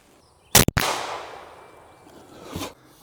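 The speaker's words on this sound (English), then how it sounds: "We'll shoot this propane tank 3 times." An AEA Challenger Elite air rifle fires a slug at a propane tank outdoors, giving a sharp loud crack and metallic impact that rings and decays, followed later by a softer second burst of noise.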